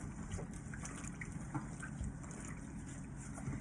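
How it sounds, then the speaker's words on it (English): Newspaper being squished and soaked in a bowl of water for vermicompost bedding, giving soft, wet sloshing and squelching with faint trickles, quiet and close, with no talking. "You're just gonna squish it, get it soaked in the water."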